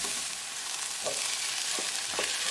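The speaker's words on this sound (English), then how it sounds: "We're going to make sure that we saute it really well. So keep it moving and keep cooking." Onions sauté in oil for chicken tikka curry, a steady close hiss of frying with a few soft stirring thumps, no voices.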